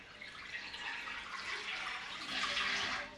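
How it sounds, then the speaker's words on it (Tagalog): Tap water runs steadily from a faucet into a sink for washing dishes, a continuous close hiss and splash with no talking. "First, lagyan natin tubig."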